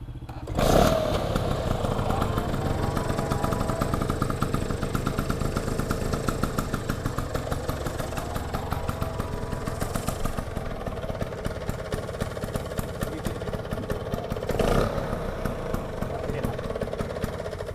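A restored 1966 Vespa Super scooter's small two-stroke engine runs steadily at idle, a close, continuous putter that lasts throughout with a brief rev near the start and another later on.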